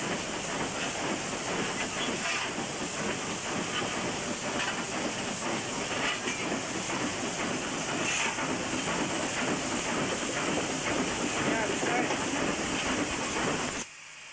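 A 123-tonne steam locomotive of England's Great Central Railway design, working in New South Wales, hisses loudly and steadily for the whole stretch, with faint rail clatter beneath, before cutting off abruptly at the end.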